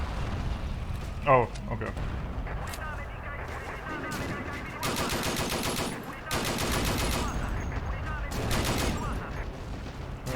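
Vickers machine gun fire in Forgotten Hope 2, long sustained bursts with sharp shots and distant blasts scattered through the action, while players talk over the noise.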